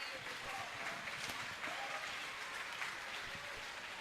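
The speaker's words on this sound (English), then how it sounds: "Another round of applause for them" Steady, continuous clapping from an audience at a VEX Robotics competition awards ceremony, a dense even wash of applause.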